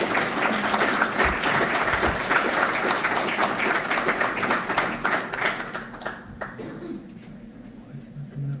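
An audience applauds steadily for several seconds, the clapping mixed with voices, then fades and thins out toward the end.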